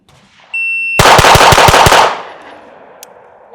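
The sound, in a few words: pistol shots fired in a timed shooting drill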